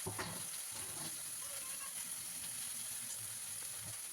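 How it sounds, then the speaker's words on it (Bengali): Garlic and chilli tempering for leafy greens sizzles in hot oil, a steady close crackle with occasional stirring clinks and a faint high hiss throughout. "মূল শাকটা তেলে রসুন লঙ্কা ফোড়ন দিয়ে আমি বসিয়ে দিলাম"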